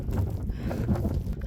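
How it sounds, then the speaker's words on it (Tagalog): Strong wind blows outdoors during snow shoveling, buffeting the microphone with a constant low rumbling roar that fills the whole moment. "Grabe ang hangin, nadadala ako"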